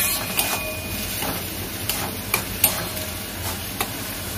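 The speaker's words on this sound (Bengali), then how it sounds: "এটা আমি দিয়ে দিলাম, ভালো করে নেড়ে চেড়ে এটা কষিয়ে নিতে হবে।" A whole chopped tomato stir-fried in a pan for a fish-head curry: quiet, even sizzling under a few light scrapes and taps of a spatula against the pan.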